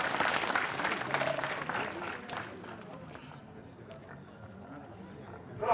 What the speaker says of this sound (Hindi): तो मेजर साहब के लिए एक बार जोरदार ताली।